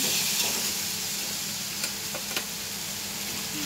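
Chili paste sizzles loudly and evenly in a pan with fried hilsa for a thin curry tempered with nigella seeds and green chilies, with a couple of faint stirring clicks and no talk.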